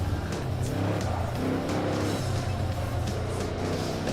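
A race car engine in Gran Turismo 4, played in VR, roars steadily at close range, revving with faint tire squeals and no voices.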